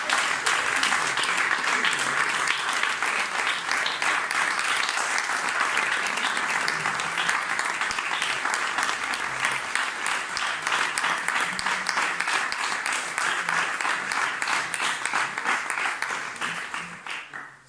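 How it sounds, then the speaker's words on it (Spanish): Sustained, dense applause from a political campaign rally crowd at a Socialist (PSOE) municipal election campaign launch in Segovia, steady and loud for about seventeen seconds before fading at the end. "un fuerte aplauso socialista para nuestro compañero Alfredo Pérez Rubalcaba"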